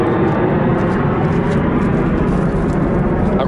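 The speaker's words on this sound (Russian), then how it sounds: "здесь очень низко летают самолеты" Low-flying airplane passing over a beach near Adler, Sochi, a loud, steady roar of engine noise filling the whole moment with no pauses.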